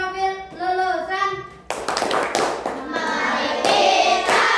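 Children clap a rhythm together in a classroom chant: a voice sings first, then sharp group claps come in patterned bursts mixed with chanting voices, close and lively.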